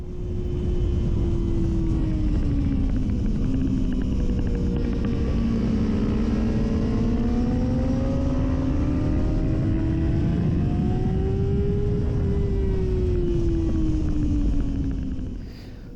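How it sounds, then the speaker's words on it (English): Racing motorcycle engine on a warm-up lap around Donington circuit in the dry, heard loud and close from the bike, its pitch rising and falling steadily through gear changes and throttle over a continuous roar. "these are my first laps around Donington on this bike in the dry"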